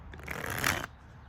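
Tarot cards being shuffled, a single quick riffle lasting under a second, close and fairly soft, fading into quiet afterward.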